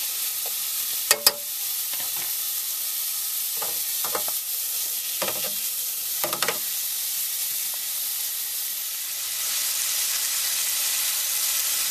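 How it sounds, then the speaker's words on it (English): Steady sizzling hiss of bacon frying in its fat in a pan, continuous throughout, with a few brief knocks and scrapes of a utensil in the pan. "We're still got our bacon frying."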